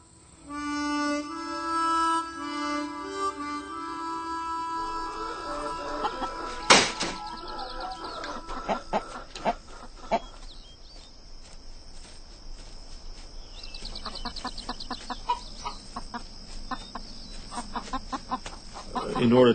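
Chickens clucking and a rooster-like call, with crickets and insects chirping in the background, scattered calls and a brief flapping burst over a steady outdoor insect drone.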